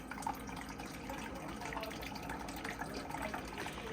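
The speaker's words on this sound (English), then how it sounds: "Every once in a while you can hear the water cycling through." A Typhur nugget ice maker runs with a soft steady fan hum while water trickles and gurgles through it, a quiet continuous churning with faint dripping and splashing close by.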